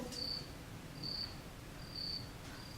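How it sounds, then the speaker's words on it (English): Crickets chirp in three evenly spaced, high, thin trills with a fourth starting, soft and distant over a faint hiss, during a stage play. "The crickets chirp."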